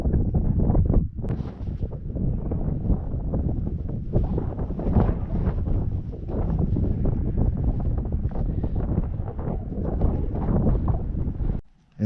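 Strong wind blowing across a wild camp beside Claerwen Reservoir in the Elan Valley, loud gusty buffeting hitting the microphone continuously, cutting out abruptly at the end.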